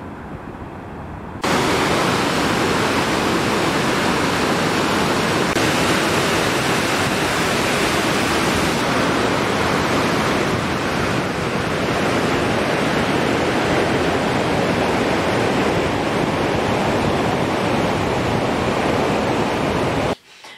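A large waterfall in Québec roars as a steady, dense wash of white water, loud and close, holding unbroken for about twenty seconds with no voices.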